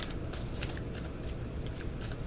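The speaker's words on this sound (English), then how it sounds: "Let me pull some more cards." Tarot cards being shuffled and pulled from the deck: a steady papery riffle of soft slaps and flicks, close and fairly quiet, with no talking.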